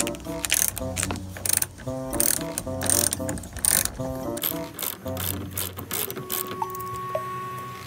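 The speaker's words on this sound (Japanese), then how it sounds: "こちらのボルトは結構長いので、こんな感じでね、結構一生懸命回して外しました。" Ratchet wrench clicking steadily in bursts while loosening a long 14mm rear seat belt bolt inside a Toyota Hiace van, close and fairly loud, with short pauses between runs of rapid clicks.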